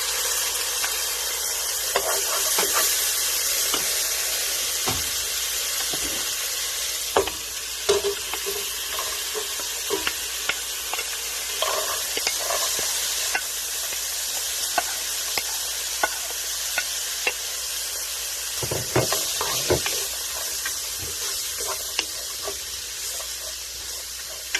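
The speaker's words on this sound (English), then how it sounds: "start adding our other items, such as the garlic, the celery, and the onions, and then we're going to saute them until they become translucent and soft" Garlic, celery and onions saute in bacon grease for a dairy-free clam chowder, a continuous sizzle broken by repeated scraping stirs and clatter from a utensil in the pot, close and loud.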